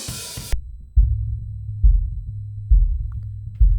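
A close-miked kick drum and floor tom with a tight 100 Hz notch cut, tracked through a cheap earbud used as a microphone, thump four times in a steady pattern, each hit leaving a low booming hum, after a short burst of noise.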